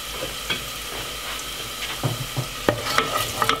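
Crushed garlic clove sizzling and frying in a frying pan, a steady bright crackle with occasional stirring clicks and scrapes, close and moderately loud, no talking.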